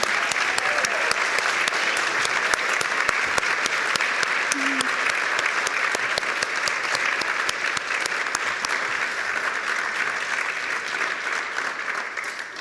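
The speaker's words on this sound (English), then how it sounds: "have everyone else stand up one more time for one big round of" Sustained audience applause at the 2021 Walton Honors ceremony, a dense, steady roar of many hands clapping for the full length, loud and close with no break.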